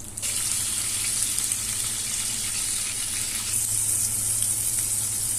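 Continuous loud sizzling of fish (dalagang bukid) frying in hot oil, a steady hiss that holds evenly from start to end.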